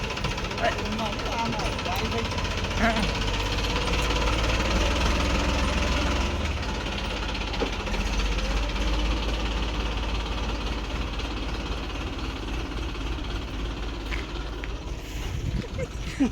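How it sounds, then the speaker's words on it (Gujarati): A tractor engine runs steadily nearby with a low, knocking rumble, loud and continuous, while people talk over it. "પપ્પા તો ગયા ટ્રેક્ટરમાં"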